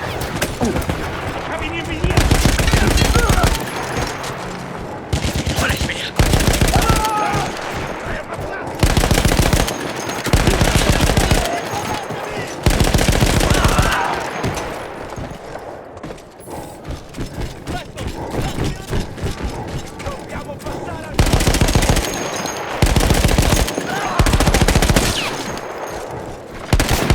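Heavy mounted machine gun in Battlefield 1, crewed by Austro-Hungarian troops in a World War I setting, fires in long loud bursts broken by short pauses across the stretch, with voices shouting now and then.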